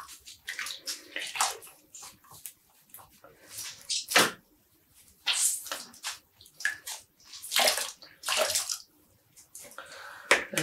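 Dyed yarn being squeezed out in a rinsing bath, giving repeated wet splashes and trickles of water at close range, with no voices.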